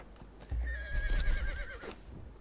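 A horse in the video game Conan Exiles gives a single clear whinny lasting over a second, with a quavering rise and fall, alongside a soft thump of hooves at moderate volume.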